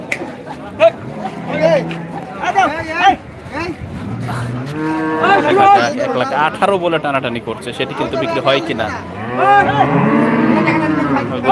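Cattle moo repeatedly with long, tonal calls at a large Bangladeshi livestock market, close and loud, over a busy background of crowd chatter and bargaining voices.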